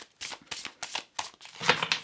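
Tarot cards are shuffled by hand in a series of quick riffling bursts, five or six crisp, close rustles in an uneven rhythm, ending in a busier flurry of card snaps.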